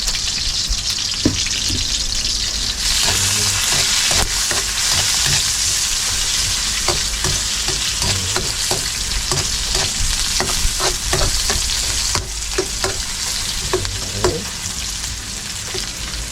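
Garlic and chili frying in a pan for adobo, a steady close sizzle broken by repeated scraping clicks of a utensil stirring, with no talk.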